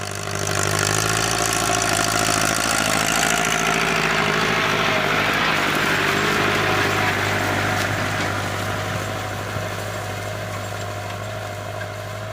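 A farm vehicle engine, a Pegasus or CMT machine, runs steadily while driving through a rice field, with a continuous droning rumble and vibration that stays loud throughout and eases slightly near the end.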